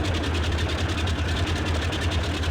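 Engines of a Boeing 247D vintage twin-engine airliner idle in Microsoft Flight Simulator 2020, giving a steady, loud, low rumbling drone with an even pulsing throb and no talk.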